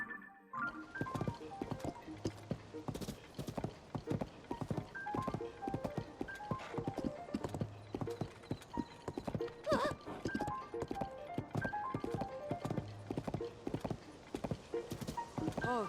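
A horse gallops with rapid rhythmic hoofbeats throughout, with occasional whinnies, in the video game The Legend of Zelda: Tears of the Kingdom; the hooves sound steady and close over a game music backdrop.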